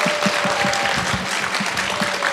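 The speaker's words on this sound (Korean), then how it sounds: "우리 카렌 교수님 한 번만 박수 쳐주세요" A conference audience applauds a professor after her talk, dense and even clapping from many hands that carries on steadily through the moment.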